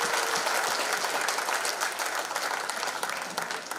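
Audience at a Lions district cabinet installation ceremony gives steady, dense applause throughout, loud and sustained without a break.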